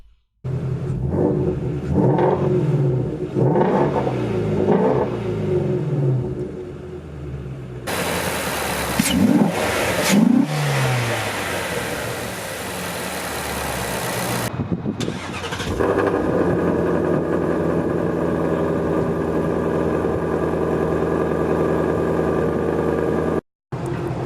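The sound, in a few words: 2017 Ford Shelby GT350 engine starting and exhaust revving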